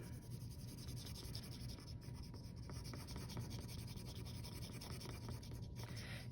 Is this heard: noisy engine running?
no